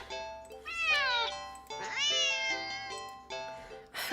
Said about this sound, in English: the cat meows sharply at you